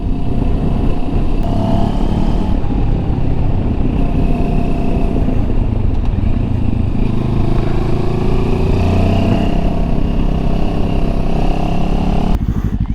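A Benelli TRK 702X motorcycle rides along country lanes, its engine droning steadily and close with gentle rises and falls in pitch plus wind rush throughout.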